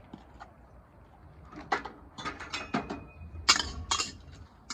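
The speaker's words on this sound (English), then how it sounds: "First thing I'm going to do is put in our onions that are chopped." Chopped onions for grilled fajitas go into a pan, giving a series of light clinks and scrapes of a utensil against cookware, quiet and close, spread across several seconds.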